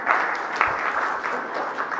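Audience at a business summit breaking into applause, a dense, even wash of clapping hands lasting a couple of seconds at moderate distance.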